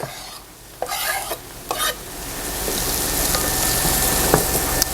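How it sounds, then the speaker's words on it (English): Chopped tomato is stirred into onion and garlic sizzling in a pan for a meat casserole, with a couple of bursts of scraping stirs early on, then a steady, close frying sizzle building underneath. "now I'm going to add my tomato to my onion and garlic"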